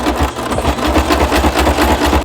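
A sewing machine runs continuously at a fast, even pace while stitching ribbon straight across the top of a crop top, a close rhythmic mechanical whirr and clatter with no talking.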